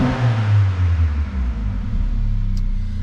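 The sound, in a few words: Mercedes GLA45 AMG engine revving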